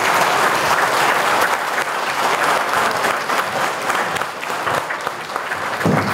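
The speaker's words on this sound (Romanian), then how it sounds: "Vă mulțumim frumos pentru aplauze" An audience at the inauguration of a village cultural hall in Romania claps loudly after a congratulatory speech, dense sustained applause from a large crowd holding steady for several seconds, with no speech over it.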